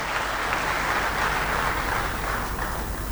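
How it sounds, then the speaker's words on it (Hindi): Audience applause at a Hindi political speech event, a dense steady wash of clapping from a large crowd filling the whole stretch at even loudness, with no voices on top. "आप भी तालियां बजा के स्वागत करें"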